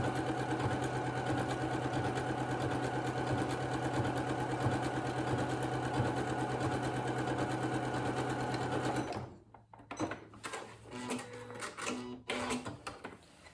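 A sewing machine zigzag-stitches a hem, running at a steady, fast, even hum for about nine seconds, then stops, followed by quieter handling noises.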